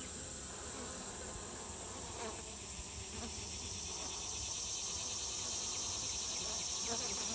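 Honeybees buzz in a steady, dense drone throughout an open hive during an August inspection, close and continuous with no break.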